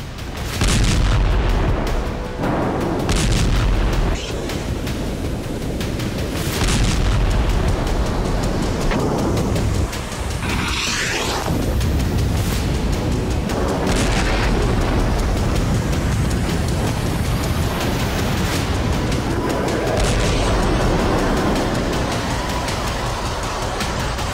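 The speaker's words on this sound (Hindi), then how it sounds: "ये बेरूत पर इजरायली एयर स्ट्राइक की तस्वीरें हैं।" Israeli air strikes on Beirut send heavy booming blasts and rumbles, loud and continuous, with repeated deep impacts rolling over one another and no voices.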